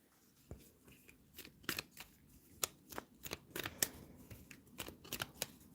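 Tarot cards are shuffled by hand for a reading. Crisp riffling slaps and snaps come in irregular quick bursts, close and fairly quiet, with no voice over them.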